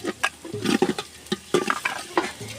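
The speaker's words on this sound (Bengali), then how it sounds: "দিয়ে এটাকে একটু হালকা করে ভেজে নেব এখন দিয়ে দিব লবণ শুকনা মরিচের গুঁড়া হালকা হাফ টেবিল চামচ আর দিয়ে দিলাম আদা রসুন বাটা" Spices with ginger garlic paste are stirred in a pan over a village clay stove, giving close, irregular scraping and clinking strokes of a spoon against the pot over a soft sizzle.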